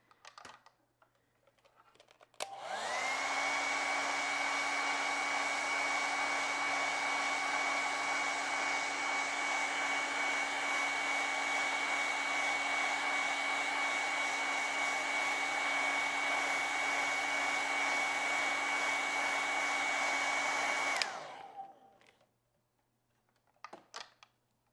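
A hair dryer runs steadily for about eighteen seconds while drying acrylic paint on canvas, a constant loud whirring hum with a sharp start and stop and quiet stretches before and after.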